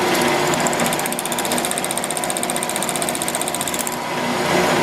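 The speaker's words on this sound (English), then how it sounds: "Okay, I've got it all set up in the mill, and what I'm going to do, I touched off already on it. What I'm going to do is take about 50 thousandths off of it." A milling machine taking about 50 thousandths off a metal part, a steady mechanical whir with a rapid rhythmic chatter that stops near the end, close and fairly loud.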